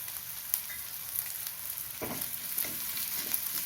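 A large onion sautéing with salt in a pan sizzles steadily, with a few soft stirring scrapes partway through; no one speaks over the close, moderate frying hiss.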